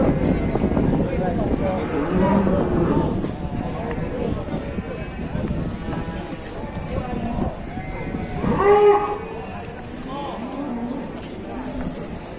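A rampaging cow being restrained moos amid noisy outdoor commotion, with voices and rustling around it and a louder lowing swell near the end.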